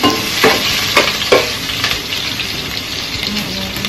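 Onions frying in a pan for Ilocano pakbet, a loud continuous sizzle broken by several sharp scraping stirs of a utensil near the start, with no talk over it.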